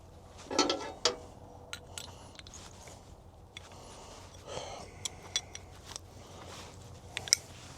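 A hand wrench works a fitting on pattern changers, giving sparse metallic clicks and ratcheting ticks scattered over a quiet background, with a few sharper clanks standing out.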